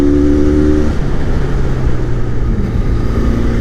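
A Benelli 502c motorcycle engine drones loudly while riding, a close, steady mid-pitched hum with slight shifts in revs and wind rush, no voices.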